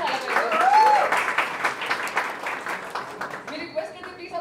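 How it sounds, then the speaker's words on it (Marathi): An audience applauds at a film trailer launch event, with clapping strongest at the start and slowly fading while a voice speaks over it. "एका जोरदार टाळ्या सगळ्यांसाठी झाला पाहिजे"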